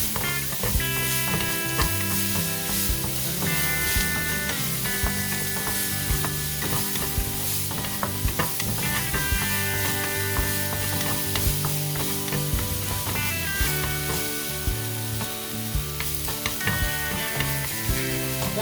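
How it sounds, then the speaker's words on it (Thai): Butter, onion and fresh chili stir-fry in a pan, a continuous sizzle and crackle running under steady background music. "ใส่เนยลงไปนะคะเพื่อน ๆตามด้วย หอมหัวใหญ่นะคะกับพริกสดนะคะ ลงไปผัด"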